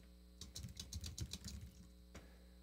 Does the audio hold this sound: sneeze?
no